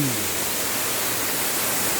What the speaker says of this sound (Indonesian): embun pecahan air terjun dari air terjun Ringin Jingkot ini